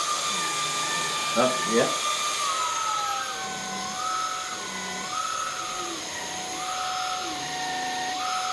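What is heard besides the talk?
MOOSOO stick vacuum running on high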